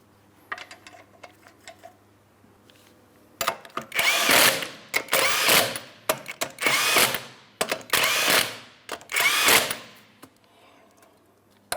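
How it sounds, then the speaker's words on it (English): A power tool run on the 19mm wheel lug nuts of a 2008-2016 Chrysler Town & Country, several loud rattling bursts of a couple of seconds each with short pauses between, following a few quieter clicks. "start on all 5 of your 19mm lug nuts. Bottom them out."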